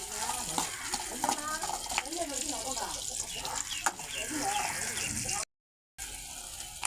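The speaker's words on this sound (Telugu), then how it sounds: "పచ్చిమిరపకాయలు వేగాలి కొంచెం" Green chillies sprinkled with salt frying in a pan, a steady close sizzle with scattered crackles and stirring scrapes, broken by a short gap near the end, with a voice talking in the background.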